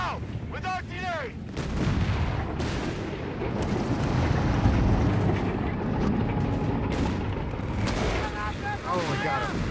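Artillery fire in the Company of Heroes 3 North Africa campaign sounds as a rumbling barrage of booms and blasts under game voices and radio-style unit chatter.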